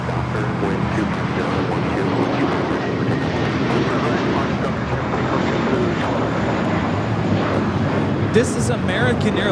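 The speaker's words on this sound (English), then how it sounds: "This is American Airlines 1657 taking off to Dallas-Fort Worth on the A321." An American Airlines Airbus A321 takes off from Los Angeles International Airport, a loud steady jet roar that holds throughout, with a voice talking over it.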